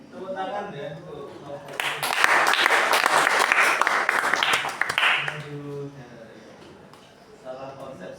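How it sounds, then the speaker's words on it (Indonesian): Students in an Indonesian classroom break into a burst of applause, clapping densely for a few seconds before fading, with a teacher's voice speaking before and after. "Tepuk tangan ya untuk"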